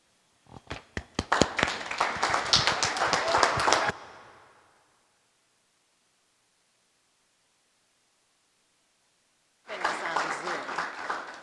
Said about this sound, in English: I would invite all of us to welcome them with applause.